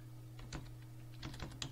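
Keystrokes on a computer keyboard at a desk, a few quiet isolated clicks followed by a short cluster of taps over a steady low electrical hum.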